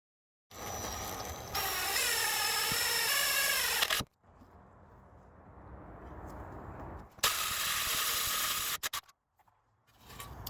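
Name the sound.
drill enlarging holes in Jeep YJ frame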